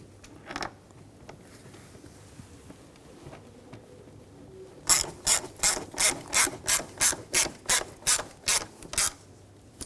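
A ratchet tightens bolts during ignition coil work on a 2007-2013 BMW X5 3.0L inline-six. After a quiet start, about a dozen crisp, evenly spaced clicking strokes come close and loud.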